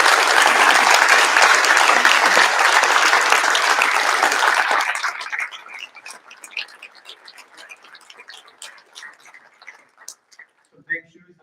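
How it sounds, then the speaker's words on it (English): Loud, dense audience applause fills a football banquet, then thins after about five seconds into scattered, fading claps. "So a round of applause."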